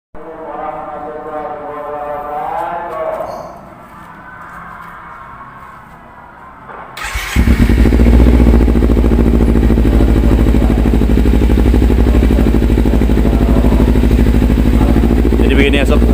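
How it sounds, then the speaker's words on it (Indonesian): A Kawasaki Z250 motorcycle fitted with a full-system exhaust starts up partway through, after someone speaks, then settles into a loud, deep, steady running rumble up close. "Oke sob, kita lanjut ke bagian suara knalpot ya sob ya."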